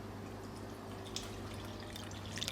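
A bottle of Guinness being poured into a mixing bowl with sugar for bread pudding: a soft, steady liquid stream with a few light splashes and drips, faint and close, no speech.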